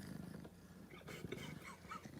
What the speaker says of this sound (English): I can hear purring